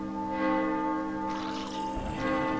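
A church bell tolls in the horror video game The Evil Within, a sustained ringing tone with a lingering hum, followed by a second softer strike amid low ambient rumble.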